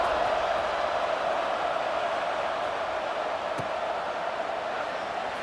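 Football stadium crowd before kickoff at an Arkansas game, a dense steady roar of many voices from a large distant crowd, loud and unbroken throughout with no clear nearby speech.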